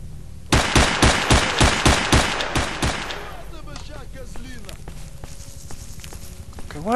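Rapid bursts of automatic gunfire in the S.T.A.L.K.E.R. shooter game, about a dozen loud evenly spaced shots over two and a half seconds, then quieter scattered in-game noises and clicks.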